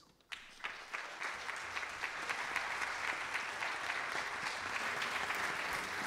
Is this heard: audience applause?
yes